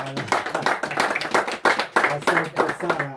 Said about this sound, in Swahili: Makofi jamaa.